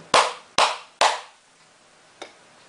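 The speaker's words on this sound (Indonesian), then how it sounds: "kali ini kita akan menggunakan tiga kali suara tiga kali tepuk tangan" Three crisp hand claps in quick, regular succession, loud and close with brief echo, to trigger a clap-controlled lamp, followed after a pause by a faint click.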